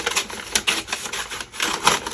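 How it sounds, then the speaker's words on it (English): Paper trimmer slicing through paper for a craft page, a short run of quick, dry clacking and scraping strokes, close and fairly loud with uneven rhythm, with no talking. "I want to give myself the ability to trim it down really nice and straight on the trimmer"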